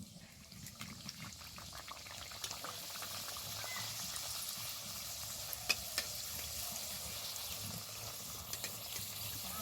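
Fuchka puris frying in hot oil give off a steady, soft bubbling sizzle with faint crackles throughout, fairly quiet and alone.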